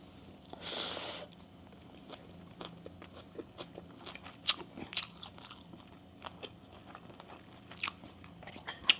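Bamboo shoot soup with hot sticky rice being eaten up close, with a brief hiss early on followed by scattered crisp bites and soft chewing sounds at irregular intervals.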